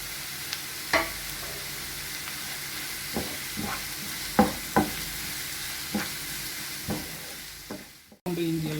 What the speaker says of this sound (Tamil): இப்போ வந்துட்டு இந்த பச்சை மிளகாவையும் இஞ்சி பூண்டையும் போட்டுடலாம்.